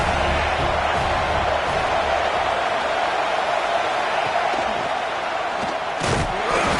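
A loud, dense roar fills a college football stadium during a Penn State versus Ohio State game, a continuous wall of crowd noise at full volume.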